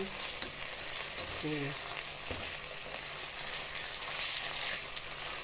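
Beef pieces for daging malbi, a Palembang dish, are dropped into a hot pan and crackle with a dense, steady sizzle close by. Light stirring noises sit on top of the frying.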